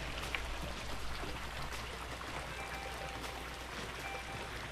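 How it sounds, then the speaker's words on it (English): Water from a backyard pool waterfall splashes and patters in a steady, soft wash, fairly faint, with nobody talking. "There's something about the sound of the waterfall."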